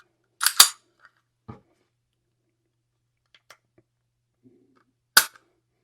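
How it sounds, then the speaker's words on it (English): A SCCY DVG-1 9mm pistol is dry-fired with a trigger pull gauge, giving two sharp, close metallic clicks about five seconds apart, with faint handling taps between them. "Let's get the trigger pull gauge and see if we can get a trigger pull on this."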